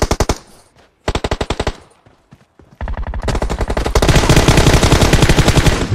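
Automatic gunfire in the mobile shooter PUBG Mobile: loud, rapid bursts broken by short pauses, then a sustained, unbroken stream of shots that grows denser toward the end.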